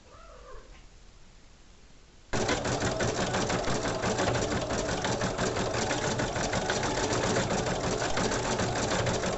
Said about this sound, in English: So then you go on and stitch your second color,